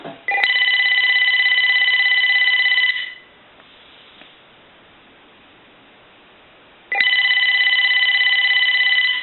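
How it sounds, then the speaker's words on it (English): A Uniden EXS9966 two-line 900 MHz cordless telephone rings in two loud electronic bursts of about three seconds each, separated by a quiet gap with faint line hiss. "So I'm going to go ahead and ring the phone now"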